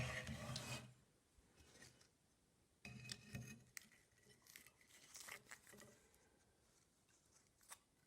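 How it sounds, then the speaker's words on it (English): The sole of a Stanley No. 6 hand plane is scrubbed in a few short bursts of gritty, rasping rubbing, close and quiet, separated by pauses with faint scrapes. "Scrub it down."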